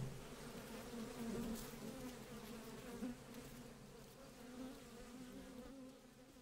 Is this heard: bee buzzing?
yes